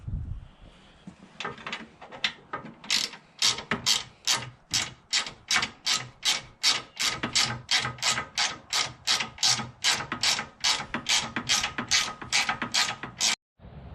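A 4mm Allen wrench tightens bolts on a Reds Off Road low-profile radiator relocation kit, making a steady series of about two dozen rhythmic, close scraping ratchet-like strokes.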